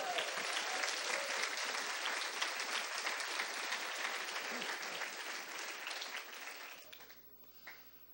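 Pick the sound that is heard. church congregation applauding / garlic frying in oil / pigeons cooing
church congregation applauding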